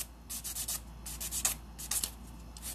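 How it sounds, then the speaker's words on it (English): Quick, close scratchy strokes of a nail file rubbing over short almond-shaped acrylic nails, coming in rapid bursts with brief pauses between them. "So now I'm just going back over and finish filing"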